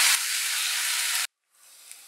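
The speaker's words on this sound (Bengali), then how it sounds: "তেল গরম হয়ে গেছে, এবার আলুটা দিয়ে দিচ্ছি।" Potatoes hit hot mustard oil with a loud, steady hissing sizzle that lasts about a second, then cuts off abruptly into near silence before a fainter sizzle returns.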